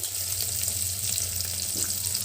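Brinjal and drumstick pieces go into a pan of sambar with tomato and onion and sizzle steadily. The frying hiss is close and continuous with a faint bubbling underneath.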